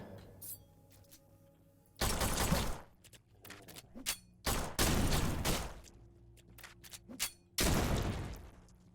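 Gunfire in the Lovecraftian boomer shooter game Forgive Me Father 2, several loud bursts of shots in separate volleys with brief quieter gaps of game sound between them.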